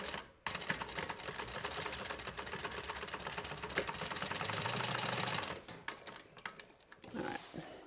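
A sewing machine stitches a small fabric pouch in a fast continuous whir for about five seconds, then stops, followed by a few quieter mechanical clicks and handling sounds.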